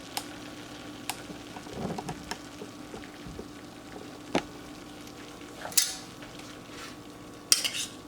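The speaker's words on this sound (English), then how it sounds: "Now I'm going to take some rice" Rice spooned from a container onto a wrap: a few scattered light clinks and taps of a utensil, sparse and quiet, with a faint background hiss.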